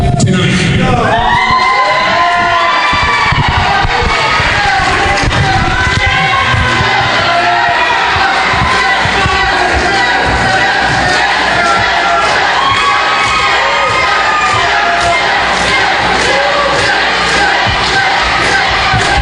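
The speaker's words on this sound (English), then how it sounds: "the crowd going crazy right now" A wrestling crowd at a live event cheering, whooping and yelling loudly and without a break, with shouts rising over the sustained roar.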